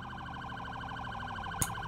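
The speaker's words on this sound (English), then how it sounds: "That siren though." A police car siren in a roleplay video game wails steadily and loudly with a rapid warbling pattern, broken once by a short sharp click near the end.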